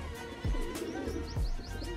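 Pigeons of a Punjabi breed kept by a fancier coo softly, two low rolling coos a short way off over faint background hiss.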